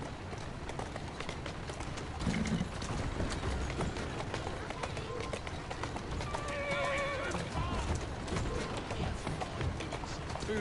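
A horse walks with steady clip-clopping hooves and lets out whinnies, heard outdoors amid wind noise and a person speaking to it.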